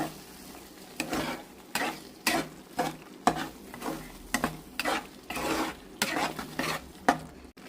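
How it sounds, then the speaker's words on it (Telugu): Paneer butter masala curry is stirred in a pan after coriander goes in, with repeated scraping strokes of a spoon against the metal at a steady rhythm over a faint sizzle. "ఇప్పుడు కలుపుకుందాం."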